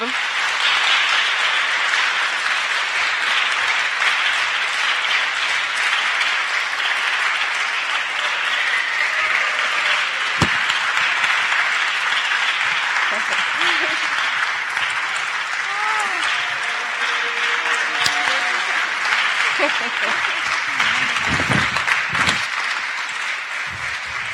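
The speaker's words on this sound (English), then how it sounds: "we have really to do a big applause to them" Sustained audience applause at a live Disruption Network Lab panel event, a dense, steady wash of many hands clapping for over twenty seconds, with a few voices calling out and chatter breaking through near the end.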